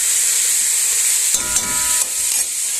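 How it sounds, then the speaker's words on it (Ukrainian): Buckwheat dry-roasting in a pan in a Ukrainian village kitchen gives a steady, close sizzling hiss, broken in the middle by a few seconds of scraping stirs and light clatter. "Зараз варю гречку, пережарю наскрізь."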